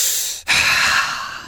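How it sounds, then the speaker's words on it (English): One deep breath close to the mic: a brief pause, then a long, loud exhale that trails off slowly, with no talking over it. "Deep breathing."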